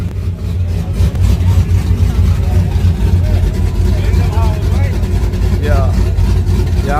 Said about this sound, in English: Got this SRT Durango on the right lane.